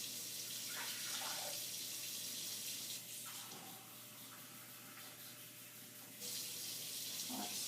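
Warm water runs steadily from a kitchen tap to activate yeast for homemade pizza dough, a continuous close hiss that eases slightly midway and then surges again near the end.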